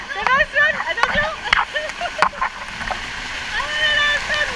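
Wild river current at a large indoor water park, rushing water with repeated splashes as people drift through, voices calling and shouting over the steady flow.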